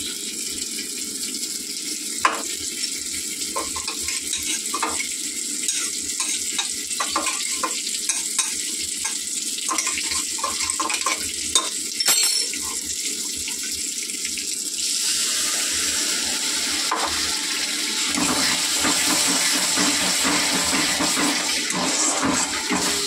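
A splash of water hits spices frying in a pan, setting off a steady, close sizzle that grows denser and louder partway through, with no voices.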